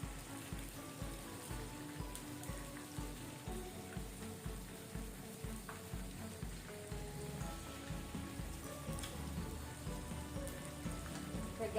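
Chilli garlic prawns frying crisp on both sides in a pan give a steady, dense sizzle and crackle like rain on a surface, continuous and even at moderate level with no talking.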